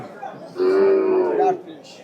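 A cow or bull at a busy rural cattle market lets out one loud, long moo lasting about a second, with faint crowd chatter around it.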